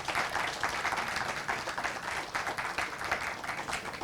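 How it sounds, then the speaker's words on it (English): Audience applause fills the hall for a panelist just introduced at a business analytics conclave, a steady wash of many hands clapping at moderate distance, with no voices over it. "Let's give him a big round of applause"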